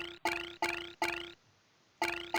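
Repeated cowbell-like chirping tones from the video game Myst, Masterpiece Edition: three quick bright dings in a row, a short gap of quiet, then two more, each with a steady ringing pitch and sharp attack, close and clear with no voices.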